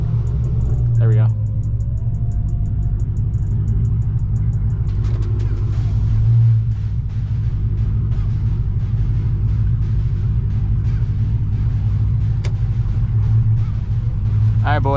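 A car drives along with a steady, loud low engine rumble throughout, and short voices or bursts break in over the road noise.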